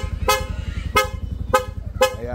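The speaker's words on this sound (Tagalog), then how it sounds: "So pag pinindot natin yan, magpapalit sa Corsa horn." Four short, loud Corsa horn honks on a Sniper 150 motorcycle, evenly spaced about half a second apart, over a steady low engine idle.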